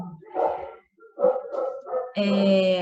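A dog barks in bursts of yips and bow-wows close by, ending in a longer, louder, tonal bark with a whine.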